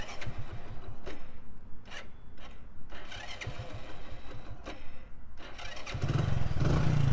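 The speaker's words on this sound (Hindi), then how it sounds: "एक ही सेल्फ में जो है ये बाइक स्टार्ट हो जाएगी वो भी मैं आपको दिखा दूँ" An Indian motorcycle fitted with an anti-theft switch is cranked by its electric self-starter in several short bursts before the engine catches and settles into a steady idle near the listener.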